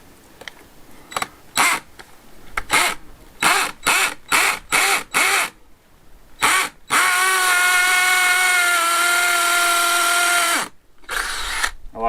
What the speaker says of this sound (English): I'll get the other two drilled.